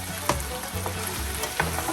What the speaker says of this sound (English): I kind of like fry it a little bit